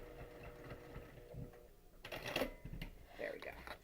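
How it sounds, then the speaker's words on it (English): A home sewing machine stitches slowly over a zipper on a quilting project, short bursts of mechanical whirring and needle clatter that start and stop, heard faintly and close. "I'm going to go over the zipper slowly so I don't break a needle"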